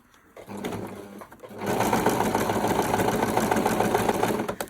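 Sewing machine stitching a fabric makeup bag at home, a short burst of whirring, then a pause, then a loud, close, steady rapid chatter of the needle running continuously.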